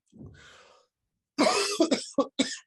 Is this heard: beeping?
no